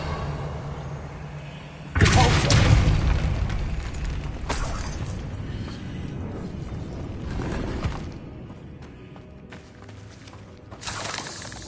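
A spell cast in Hogwarts Legacy on PS5: a sudden loud magical burst with a booming, shimmering swell, followed by a long rumbling ambient decay and a softer flare near the end, with no talking.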